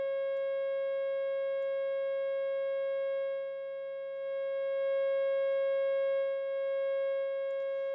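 A steady sine wave test tone feeds into a Grammatico GSG100 guitar amp, holding as a constant pure pitch with faint harmonics for several seconds and dipping slightly in level midway.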